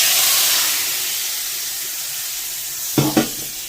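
Water poured into roasted semolina in a hot pan sets off a loud hissing sizzle that gradually settles, followed by two quick stirring clanks near the end.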